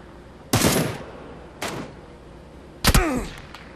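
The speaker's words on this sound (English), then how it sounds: "someone's shooting at me" Gunfire in the battle royale shooter PUBG near a bridge: three loud, sharp shots spaced about a second apart, each with a booming tail and echo, the last one followed by a whizzing ricochet-like sweep.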